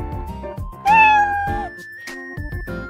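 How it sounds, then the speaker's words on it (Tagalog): Cartoon cat meow from the Scratch programming editor's cat sprite, a single drawn-out, wavering meow over a soft music background, close and clear with no talking. "Nag-mamiyaw siya. Kasi pusa siya eh."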